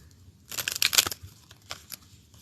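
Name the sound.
shuffling tarot cards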